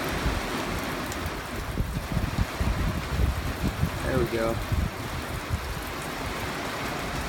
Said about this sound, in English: It's raining, man, it's raining.